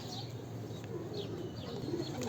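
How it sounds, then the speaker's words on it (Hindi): Highflyer pigeons coo softly in a quiet space, with a few low, faint murmuring calls scattered over a steady background hush. "दोस्तों ये सारे कबूतर हैं जी"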